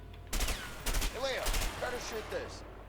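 Three gunshot bursts during target practice in the video game A Way Out, sharp and loud, separated by short gaps, with faint game voices and effects in between.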